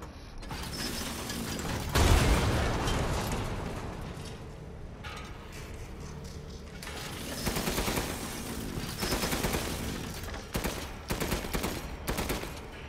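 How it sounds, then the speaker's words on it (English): Machine gun firing in Resident Evil Village during the Heisenberg boss fight, a heavy mechanical weapon rattling in long continuous bursts with clanking and creaking metal, loud and close, pausing briefly between volleys. "Machine gun."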